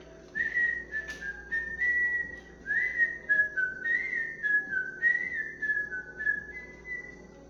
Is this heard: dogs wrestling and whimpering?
no